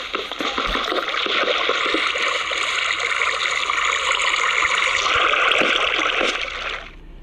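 Water from an infinite water source in a video game rushes in a continuous bright stream for several seconds before fading out at the end.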